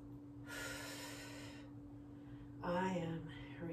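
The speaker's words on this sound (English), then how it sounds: "Breathing in," A single long, audible inhale taken during a root chakra yoga flow, close and breathy for about a second, followed by a brief softer rustle of movement.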